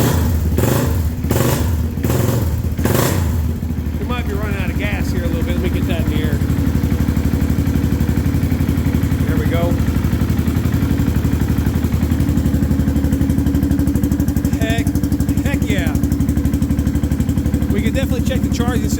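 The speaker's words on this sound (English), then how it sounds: "And it's running. Let's see if it takes a little bit of throttle." A Can-Am DS 650 ATV engine runs after a top-end rebuild, starting with a few sharp blips of throttle then settling into a loud, rumbling idle, with someone talking over it.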